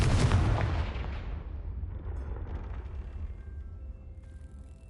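A Confringo blasting spell from the Hogwarts Legacy video game erupts in a loud, booming blast that rumbles and fades away over several seconds.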